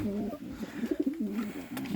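Pigeons coo softly and repeatedly nearby in a small pigeon loft, low warbling calls overlapping in a steady murmur.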